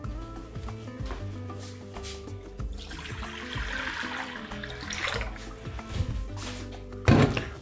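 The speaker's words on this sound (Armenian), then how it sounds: "Լցնում ենք սառը ջուր։" Cold water pours into a cooking pot in a home kitchen, making a continuous trickle and splash that swells midway and ends with a short louder clatter, with no voices.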